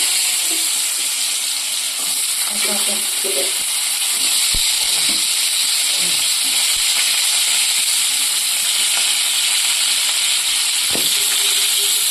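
Cumin seeds and potatoes frying in hot oil give a steady, close hissing sizzle that fills the whole stretch, with a few soft clinks and stirring sounds underneath.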